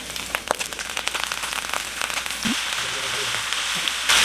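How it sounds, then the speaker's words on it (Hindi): Sliced yellow, red and green bell peppers sautéing on a high flame, a steady close crackle and sizzle with sharp pops running throughout. "सब्जियों को हम 3 से 4 मिनट के लिए हाई फ्लेम पर सौते करेंगे।"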